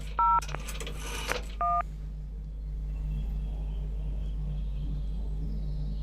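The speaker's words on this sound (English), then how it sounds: "You have dialed number 101." A telephone number dialed with touch-tone DTMF keypad: a few short, clear beeps in quick succession near the start, then a brief burst of noise and one more tone, followed by a low steady hum and faint line hiss.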